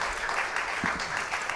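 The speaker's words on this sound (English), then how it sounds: "Can we have another round of applause for Sue and Jennifer?" Applause from an audience at a public education advocacy forum, a sustained mid-sized burst of clapping that continues steadily throughout.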